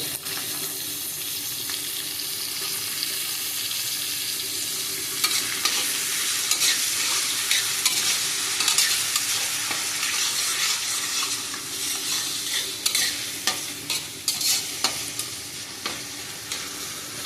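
Onion and tomato fry in a pan over a wood-fired stove, producing a continuous sizzle with repeated stirring scrapes and spoon taps that grow more frequent toward the end; no one speaks.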